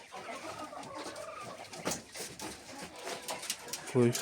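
Chickens and quails settling into their new coop, with scattered soft clucks and cooing calls over a low background hum, plus a louder call near the end; a person talks faintly nearby.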